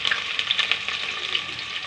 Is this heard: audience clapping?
no